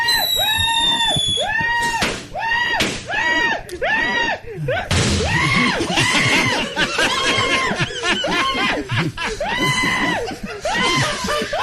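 A man's recorded screaming plays on a radio show, with repeated loud, drawn-out yelping cries in rapid succession, some rising and falling in pitch, alongside snickering laughter throughout.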